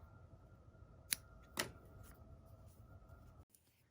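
Scissors snip crochet yarn close up in a quiet room. Two crisp cuts come about half a second apart, followed by faint handling noise, and no one speaks.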